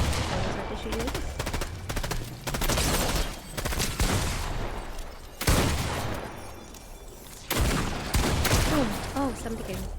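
Rapid video-game gunfire crackles in dense automatic bursts, loud and close, separated by short pauses, with a player's voice talking over parts of it.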